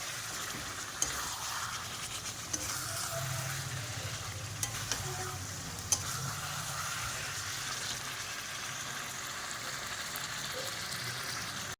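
Washed chicken with spices being stirred in a pan: a continuous close sizzle with soft scraping and a few sharp clicks from the utensil, with no voices.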